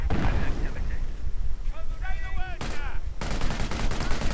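Mortar fire in a World War II strategy game, dense booming blasts and crackling gunfire running continuously and loudly, with a voice talking briefly over the battle.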